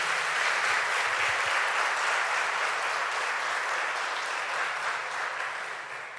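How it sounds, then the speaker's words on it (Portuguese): A church congregation applauds during a Portuguese-language sermon, a loud, continuous wash of clapping that holds steady throughout and tapers slightly at the close. "Vamos aplaudir o nosso Deus."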